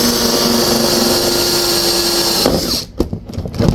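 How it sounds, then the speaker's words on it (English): A power drill whines loudly and steadily up close while drilling a hole in the interior trim of a VW Scirocco, then cuts out, followed by a few light clicks and handling noises. "the next part after getting that piece in is just drilling a hole here"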